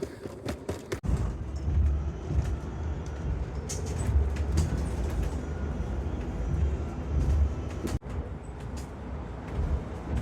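Busy indoor ambience of a large hall, with a steady low rumble, distant chatter and footsteps, and a sharp knock or bang around the middle.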